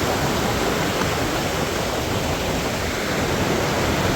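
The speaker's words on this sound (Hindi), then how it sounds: "ये नदी दिखाई दे रही है" A mountain river rushes nonstop past a traditional water-powered flour mill (gharat) in Uttarakhand's hills, a loud, dense broadband roar of churning water with no pauses and no voices.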